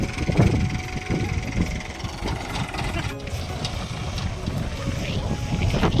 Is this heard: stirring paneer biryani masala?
no